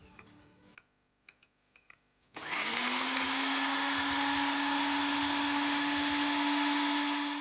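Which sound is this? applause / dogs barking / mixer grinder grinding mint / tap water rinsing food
mixer grinder grinding mint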